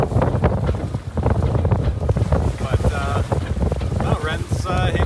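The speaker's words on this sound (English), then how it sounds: "The wind was strong and the waves were big." Strong wind and big waves on a sailboat near New York City, heavy wind buffeting the microphone with rushing water and crashing surf throughout, loud and close, with a voice speaking over it.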